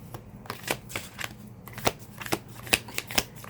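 Citadel oracle card deck shuffled by hand, a string of quick soft riffling snaps and slides in an irregular rhythm, close and quiet.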